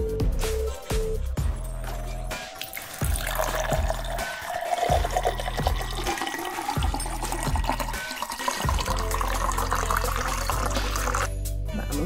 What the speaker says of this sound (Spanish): Ahora vamos a echarle el agua.